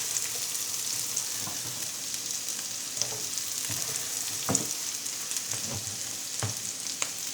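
Garlic coil sausage fries in a pan with a continuous close sizzle, broken by occasional soft knocks and scrapes of a utensil against the pan.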